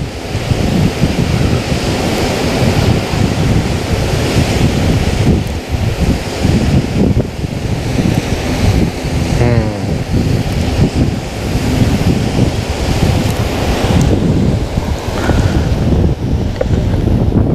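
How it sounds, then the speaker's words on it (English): Strong wind blows over a lake, roaring and buffeting the microphone steadily for the whole stretch, with water lapping beneath and no talk. "The wind's blowing up lake too."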